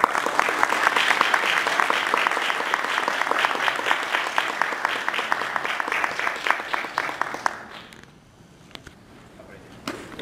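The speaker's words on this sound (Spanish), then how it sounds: "Un fuerte aplauso." Applause from a seated audience at a Dominican literature talk greets the speaker, a steady moderate clapping that fades out after about eight seconds into quieter room sound.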